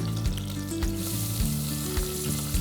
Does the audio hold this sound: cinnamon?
yes